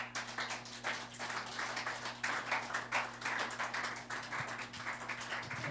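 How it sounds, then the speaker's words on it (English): Church congregation clapping during a Sunday morning service, a steady, moderately loud patter of many hands across the whole stretch, with a low hum underneath. "Give a clap for Jesus."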